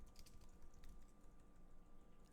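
Steady typing on a computer keyboard, soft close key clicks in a quick irregular run, fairly quiet and alone with no talking.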